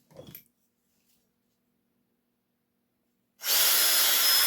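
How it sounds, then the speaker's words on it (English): A small 1/16 drill bit bores a hole, a loud steady whir starting about a second before the end after a brief earlier burst and a long quiet gap. "Drill that one."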